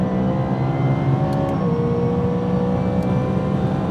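A supercharged BMW E92 M3 making about 625 bhp, driven hard on the Snetterton 300 circuit, drones loud and steady from inside the car as its engine pulls high revs, the pitch holding fairly constant with a slight step partway through.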